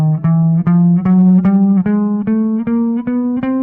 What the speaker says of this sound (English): So this is a chromatic sound.